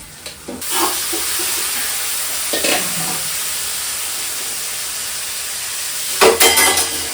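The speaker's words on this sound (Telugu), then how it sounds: "ఉల్లిగడ్డ జల్దీ ఎర్రగా రావాలంటే ఏం చేయాలి తెలుసా ఉప్పు వేయాలి" Onions sizzle steadily with salt in a hot pan, a constant close frying hiss broken by a few brief stirring scrapes.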